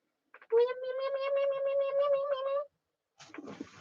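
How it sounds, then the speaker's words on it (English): A pet cat gives one long, drawn-out meow lasting about two seconds, close and clear, followed after a pause by a short breathy noise. "This is my cat."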